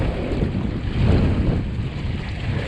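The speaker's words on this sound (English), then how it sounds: "Bouncing over some of my own waves." A Hobie Wave sailboat bounces over small waves on a flat lake in North Idaho in high winds, with loud, blustery wind noise and water slapping and rushing against the hull.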